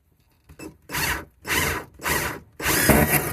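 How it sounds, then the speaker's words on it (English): A power drill whirs in four bursts while drilling holes under a kitchen sink, each lasting about half a second, with short pauses between them and a small knock at the start. "Probably it would be smart to drill holes"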